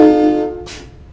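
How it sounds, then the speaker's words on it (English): A loud, close train horn from a Freightliner FLD 120 truck mod in a video game gives one short, rich blast that fades within a second, followed by a brief hiss of air. "We have a train horn."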